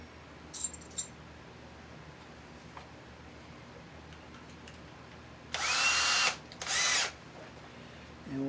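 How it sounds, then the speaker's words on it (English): Power drill boring a hole in the case of a Sony TC-WE305 tape deck, two short whirring bursts at close range, with faint clicks and handling noise before them in an otherwise quiet room. "Okay, so first we'll drill our hole here."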